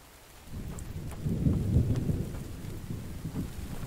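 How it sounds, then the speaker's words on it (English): Rain and rolling thunder in the survival video game The Infected, a steady downpour that swells into a loud, close rumble of thunder and keeps hissing throughout, with no talk over it. "Does it rain here every freaking day?"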